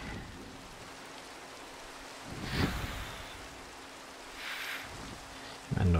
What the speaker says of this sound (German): Noch regnet es.